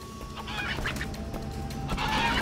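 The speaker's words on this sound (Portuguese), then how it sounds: "Gente, várias galinhas." Several chickens cluck in the video game Sleeping Dogs, a quiet cluster of short, bright clucks and squawks over low ambient game noise, coming in irregular bursts across a couple of seconds.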